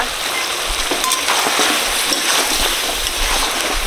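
Water is poured into okra and potato curry frying in a pan, setting off a loud bubbling sizzle with sputtering pops and stirring close by, continuous throughout.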